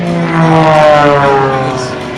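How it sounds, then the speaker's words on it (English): An Extra aerobatic propeller plane throttles up at the 2014 Rhode Island air show, giving a loud, steady, close engine drone with strong harmonic whine that swells slightly and then eases off. "Jeff Bourbon pushing the throttle forward and the extra"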